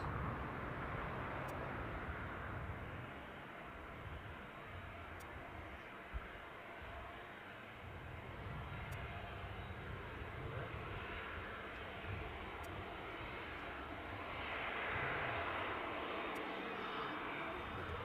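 A Lauda Air airliner on final approach at Leeds Bradford Airport makes a distant, steady jet roar that swells slightly toward the end, with faint outdoor noise around it.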